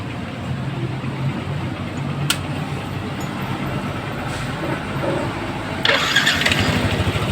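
A motorcycle engine with a fuel pump fault cranks and catches, then settles into a steady idle that grows slightly louder and rougher near the end.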